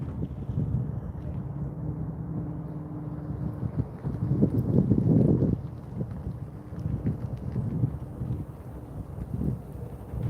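Wind buffets the microphone at an elevated trackside spot by a rail junction, a steady low rumble that swells and gusts loudly mid-clip, with no voices.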